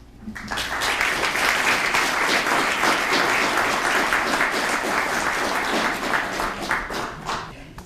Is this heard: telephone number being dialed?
no